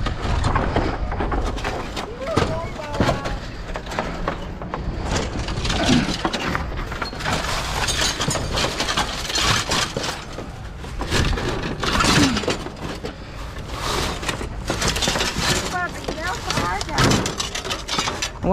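Glass is broken out of a frame from dumpster-found goods, with repeated sharp cracks and shattering crunches scattered across a long stretch. A person talks intermittently over the breaking.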